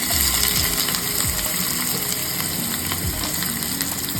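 Onions fry in hot oil with a dense, steady close sizzle, with occasional soft scrapes and clinks from stirring.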